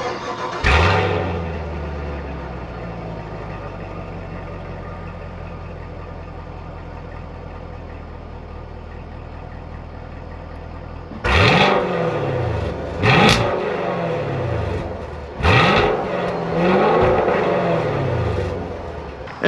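A 2022 Chevy Camaro 1SS with a 6.2 liter V8 idles with a low, steady rumble after an opening blip, then snaps through four sharp revs in quick succession near the end, loud and close.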